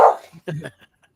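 A dog barks a few times in quick succession, short yelping bursts at moderate loudness with some whimpery tone, heard mostly alone right after a loud burst at the start.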